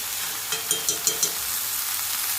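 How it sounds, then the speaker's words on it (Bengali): Brahmi greens frying in ghee in a pan, a continuous bright sizzle with a few soft stirring knocks and spatters in the middle. "দিয়ে ব্রাহ্মী শাক ভাজি।"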